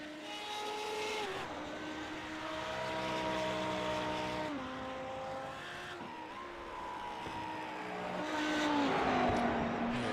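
An Audi R8 race car on a hot lap in iRacing, the engine loud and close, rising in pitch through the gears, dropping under braking, then climbing again, with no talk over it.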